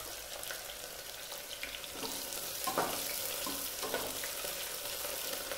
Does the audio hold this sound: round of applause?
no